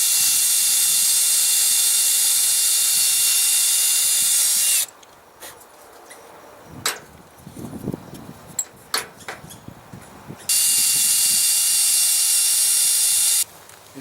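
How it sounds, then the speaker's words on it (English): A power drill bores a pilot hole in wood for a toilet paper rod holder, with a loud steady whine that cuts off midway for quiet handling clicks and knocks, then runs again, close and alone. "that's where I'm going to drill my pilot hole for my toilet paper rod"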